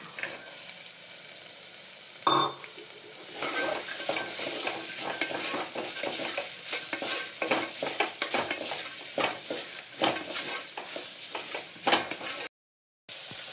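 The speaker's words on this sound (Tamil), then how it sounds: "வெங்காயம் தக்காளி இந்த ஸ்டேஜில் வதங்கினதுக்கப்புறம் எடுத்து வச்சுருக்கிற பச்சை பட்டாணியை போட்டுக்கலாம்." Green peas are tossed into sautéed onion and tomato in a hot pan and stirred, giving a continuous close sizzle with frequent scraping spoon strokes and a louder clatter early on.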